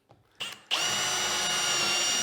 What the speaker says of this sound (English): I'm just going to pre-drill the top piece now.